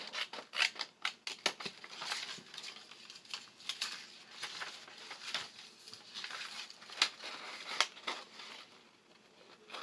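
Paper from a printable vintage grunge collage kit being cut with scissors or torn by hand, giving a quick run of crisp snips and rustling tears at close range, with short pauses in between and no talking.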